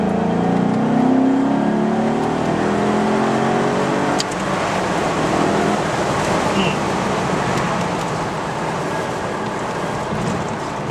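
A 370-horsepower Maserati engine drones and rises in pitch as it pulls through its rev range during a test drive, heard steadily from inside the car with road and wind noise underneath.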